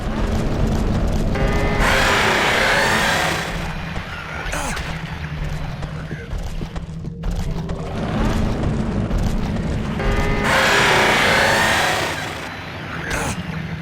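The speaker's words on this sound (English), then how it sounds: "what do you do with the door but you cut it with a chainsaw?" A chainsaw in Silent Hill 2 revs and grinds in two loud bursts while cutting through a door, buzzing harshly against a constant engine drone, with talking mixed in.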